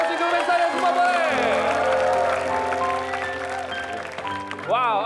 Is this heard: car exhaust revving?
no